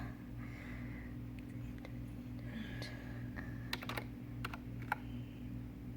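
Typing on a computer keyboard with one hand, a quiet scatter of irregular key clicks with a few sharper taps near the end, heard alone over a steady low room hum.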